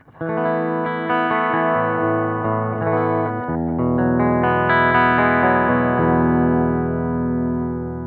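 A clean, undistorted electric guitar playing sustained chords with bright, ringing harmonics, steady and fairly loud throughout with no voices.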